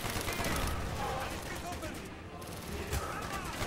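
Gunfire in the video game Call of Duty Black Ops, dense bursts of automatic fire and shots crackling continuously amid battle noise, with a voice talking over it.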